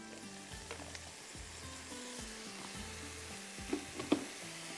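Ground masala being fried for mutton darbari, sizzling steadily in a pan with repeated stirring and a few louder spoon knocks near the end, no talk.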